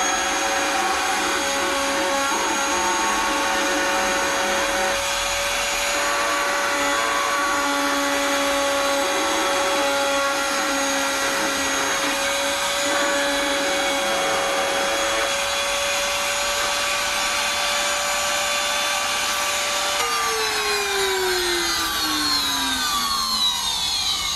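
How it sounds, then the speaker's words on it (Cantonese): A high-speed rotating cutter spins while pressed into an acrylic sheet to cut a round hole, giving a loud, steady motorized whine with a continuous tonal hum that shifts and falls away near the end. "之後壓落去支高速轉動嘅刀嗰度轉一圈，咁就開咗個窿㗎啦"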